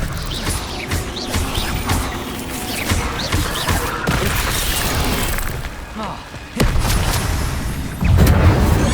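A spell cast in the Hogwarts Legacy video game produces loud magical bursts and booming impacts over a rumbling battle soundscape, with several sharp hits and a heavier surge near the end.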